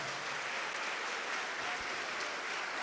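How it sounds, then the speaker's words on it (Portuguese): A crowd claps continuously, a broad and steady wash of applause that fills the space without pause or speech. "vamos aplaudir ao nome de Jesus"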